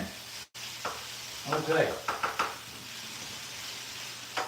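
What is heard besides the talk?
pork chops sizzling in a frying pan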